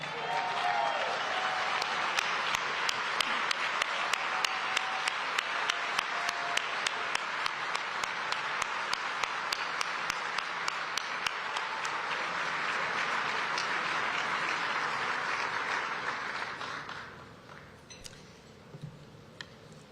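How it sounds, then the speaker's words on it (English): A large crowd at an event honoring Martin Luther King Jr. applauds steadily for about fifteen seconds, a dense wash of clapping that fades out near the end. "Let us stand, please, and applaud Reverend Jackson and his family."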